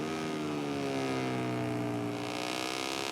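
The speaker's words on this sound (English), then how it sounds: "He's got a helicopter just hovering overhead in the middle of the circuit" Helicopter hovering over the middle of a motorcycle racing circuit in MotoGP 17, a steady droning rotor and engine hum with layered harmonic tones, continuous and fairly loud, holding level without change.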